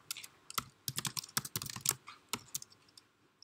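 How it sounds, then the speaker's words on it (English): Typing on a computer keyboard while a dashboard is set up, a close, irregular run of light plastic key clicks in bursts, some quick and clustered, fading toward the end. "while I'm typing?"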